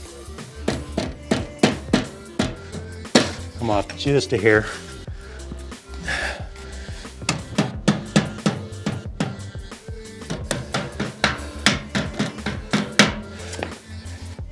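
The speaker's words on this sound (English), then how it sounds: "once you hammer this in, ain't no turning back." Sharp metallic hammer strikes ring out in irregular bursts, some quick and clustered, as a baffle is hammered into a motorcycle exhaust pipe, while a person speaks briefly between blows.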